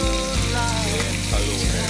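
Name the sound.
green chili frying in a pan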